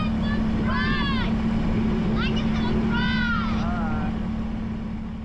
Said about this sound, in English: So I'm on the tractor here